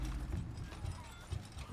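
Horse hooves clip-clop steadily across the ground in the open-world western game Red Dead Redemption 2, low and muffled with an occasional faint whinny in the mix.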